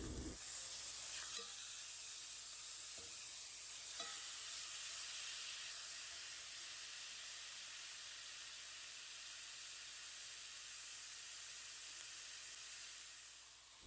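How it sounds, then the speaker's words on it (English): Pork steaks sear in a hot pan, giving an even, continuous sizzle that stays quiet and unbroken throughout, with no talking. "We're going to get a nice sear on the meat before we place it in the oven."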